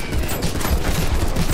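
Rapid automatic gunfire in Grand Theft Auto, a dense, continuous burst of shots with a rattling, machine-gun rhythm, loud and steady throughout with no talking over it.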